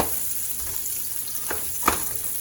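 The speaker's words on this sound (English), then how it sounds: "I've been frying my onions for a few seconds." Onions sizzle steadily in a hot pan, a constant frying hiss with a couple of sharp clinks or stirs near the end.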